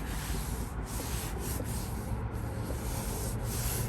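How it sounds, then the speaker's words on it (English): Steady, continuous abrasive rubbing as a rear bumper from an Infiniti G35 is sanded by hand with 400-grit paper, close and fairly loud, with slight rhythmic strokes and no talking. "start sanding it with the 400 hand, not with a sander, but everything is gonna be sanded by hand"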